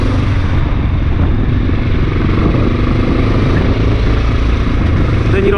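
A Honda XR650L motorcycle engine drones steadily while being ridden, a loud continuous rumble with wind and road noise throughout.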